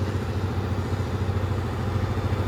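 Massey Ferguson tractor engine running steadily at idle with a low, even diesel rumble and mechanical clatter, close and continuous, with hydraulics reported as faulty.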